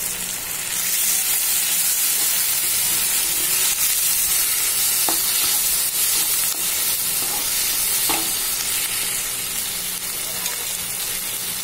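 Pumpkin sizzles and hisses in a pan as tomatoes and green chillies go in and are stirred, a steady loud frying sound with a couple of sharp scrape clicks and no talking.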